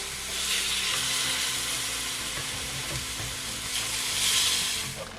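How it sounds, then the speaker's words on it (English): Bacon frying in a pan with rendered fat, a steady close sizzle and crackle filling the whole stretch, swelling slightly near the end, with no voices. "all the fat that's coming off the bacon. So just give that a flip over, make sure it's not burnt."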